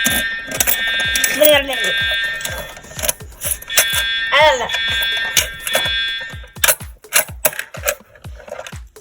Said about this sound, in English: It's my favorite alarm.